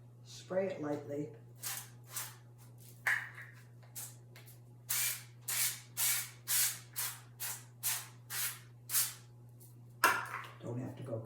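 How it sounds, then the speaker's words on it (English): Repeated short hissing bursts from a cooking oil spray can, about a dozen quick pumps in a row, close and clear with a low steady hum underneath. "And just spray it lightly."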